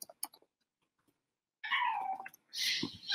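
Cats meowing and caterwauling nearby, a couple of faint clicks first, then two loud drawn-out calls, the second rising high and strained.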